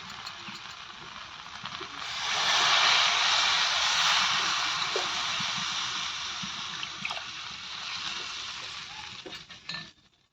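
Water poured into a pan of taro (gaanti kochu) and rohu fish curry gives a steady, fairly loud sizzling hiss that swells after a couple of seconds, holds, then cuts off near the end, with no talking.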